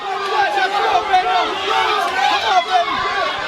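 Boxing crowd at the Francisco Jalel Lopez vs Manny Perez fight, shouting and yelling steadily throughout, a dense roar of many voices with individual shouts rising above it.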